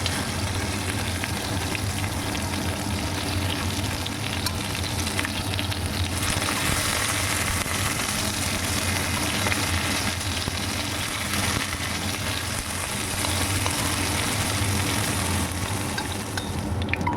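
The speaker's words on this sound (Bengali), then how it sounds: "মাছের টুকরোগুলোর এক পাশ বেশ ভালোভাবে ভাজা হয়ে গেছে এবার আর এক পাশ ভালোভাবে ভাজার জন্য উল্টে দিচ্ছি" Pieces of catla fish sizzle steadily in oil in a wok, a dense, continuous frying crackle that stays loud and even throughout, with faint stirring and turning sounds and no talking.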